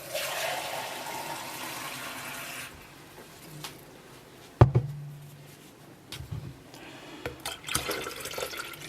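Water running and pouring into a stainless steel Bosch City TWK7901GB kettle as it is filled, a steady splashing stream at first, then trickles, a clunk and small knocks nearby.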